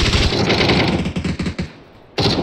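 Dense, rapid gunfire crackles loud and close in PUBG, a sustained burst of shots hitting the player, then a short lull before another loud burst at the end.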